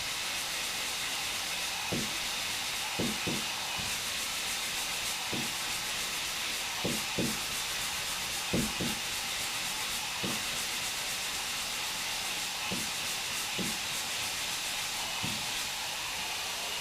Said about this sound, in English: Now this is 120. Sandpaper is getting a little dead.